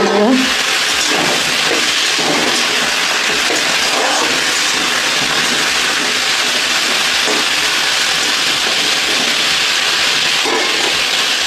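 Bori lentil dumplings fry in hot oil in a home kitchen with a loud, dense, continuous hiss and crackle, close and unbroken for the whole stretch.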